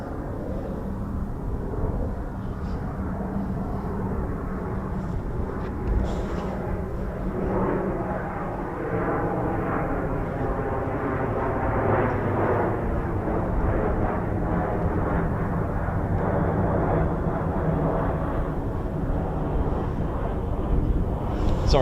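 F-35B stealth fighter jets fly touch-and-go circuits at a naval air station, giving a deep, continuous rumbling roar that swells slightly as the aircraft passes in the middle distance.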